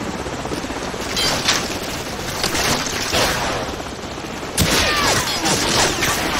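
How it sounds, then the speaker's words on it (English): Battle noise from Call of Duty 4 with a helicopter overhead: dense gunfire and bursts over a constant rotor drone, and a sharp loud blast near the end that could be a Stinger missile launch. "grab another Stinger and fire again!"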